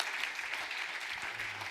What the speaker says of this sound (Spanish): Le das aplauso fuerte, Señor,